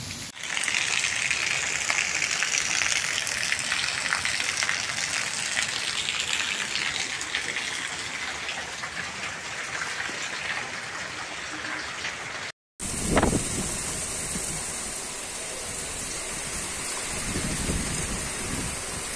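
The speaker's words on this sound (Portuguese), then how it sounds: "Uma chuva bem duradoura, graças a Deus, chuva abençoada." Heavy rain pours steadily in the rural sertão of Rio Grande do Norte, Brazil, a loud, continuous rushing wash; after a brief cut it resumes with similar intensity and a few scattered knocks.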